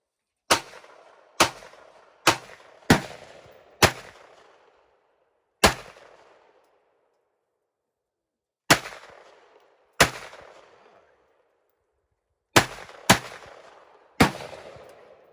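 Gunfire from 9mm, 5.56 and 7.62 firearms, including AK, PTR, AR and Mini-14 rifles, at outdoor targets. A dozen loud single shots ring out with echoing tails, some in quick pairs and some spaced seconds apart.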